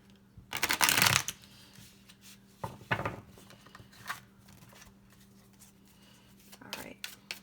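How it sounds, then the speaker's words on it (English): Tarot cards being handled and shuffled at close range in quick riffling bursts with softer shuffles between them, and a quiet voice speaks in places. "Let's grab these cards here."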